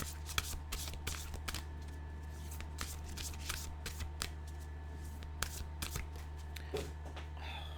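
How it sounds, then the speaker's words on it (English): Oracle cards being shuffled and drawn during a tarot reading: soft, papery riffles and slides with scattered sharper snaps, quiet and close, with no voice over them. "Let's get another card out."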